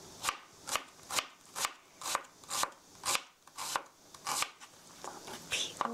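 A knife chops vegetables on a cutting board in quick, even strokes, roughly two per second, each a crisp close knock with no talking over it.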